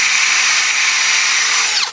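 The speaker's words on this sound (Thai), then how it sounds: "ก็คือใช้ดอกเจาะนะครับ" A power drill bores a hole into ceramic for a plant pot, a loud, steady high-pitched whine that holds for about two seconds and then winds down abruptly as the bit stops.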